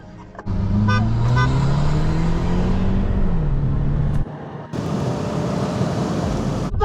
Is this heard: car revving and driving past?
yes